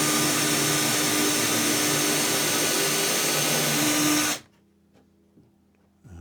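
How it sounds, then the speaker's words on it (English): A power drill whines loud and steady for about four seconds while drilling holes in wooden blocks for a boat build, then cuts off abruptly, leaving near silence with faint small clicks. "I'm just going to drill them now"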